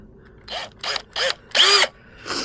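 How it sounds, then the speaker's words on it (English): A power tool sanding rust off a van whirs in five short bursts with pauses between, a close, buzzing mechanical grinding rising and falling. "I'm going to use a power tool"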